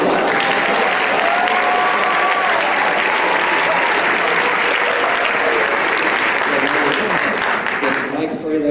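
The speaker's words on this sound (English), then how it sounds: "Let's give a round of applause." An audience gives a loud, sustained round of applause at an on-stage event, a dense wash of clapping with voices talking over it.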